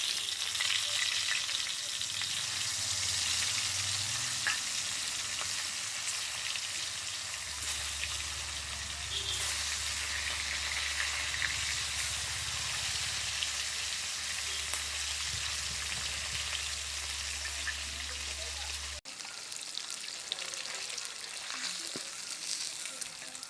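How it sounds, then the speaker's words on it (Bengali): Fish sizzles and spatters as it fries in hot oil in a village kitchen, with a steady, loud crackle throughout. A low hum runs under most of the sizzle and then drops away near the end. "এবার বাকি মাছগুলো ভেজে নেব।"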